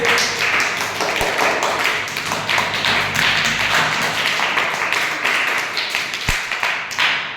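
Eighth-grade students at a classroom quiz game give a loud, sustained round of close clapping with many hands slapping, which thins out slightly near the end.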